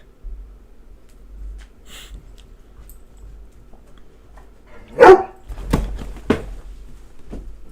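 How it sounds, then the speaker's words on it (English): A dog barks a few times in quick succession from behind a door, fairly close and moderately loud, after a quiet stretch with no talking. "That dog is never on the right side of a door."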